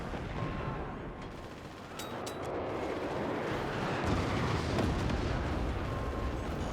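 Cannon fire and explosions in the naval fort-building strategy game Forts, a steady roaring barrage with a few sharp crackling hits, continuous and fairly loud with no talking.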